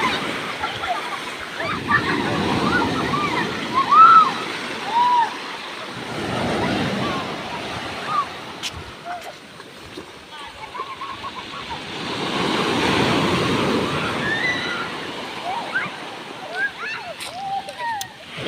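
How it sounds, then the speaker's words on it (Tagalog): Strong ocean waves surge and crash on a beach at Dingalan, Aurora, in rough, drizzly weather, rolling in broad swells with wind noise and occasional faint voices underneath. "Lakas ng alon."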